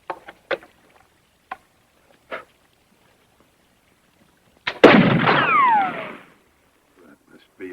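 A single gun is fired at a cluster on a palm tree: one sharp, loud crack followed by a ringing, whistling decay, preceded by brief voice fragments.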